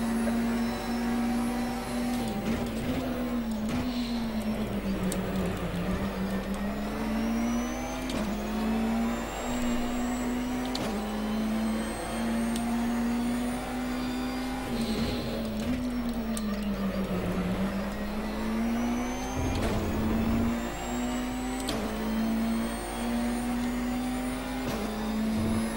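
A race car engine in the rFactor sim at Sebring holds near redline in sixth gear, a loud steady high-pitched whine that wavers slightly in pitch over a sustained stretch, with occasional clicks and bumps.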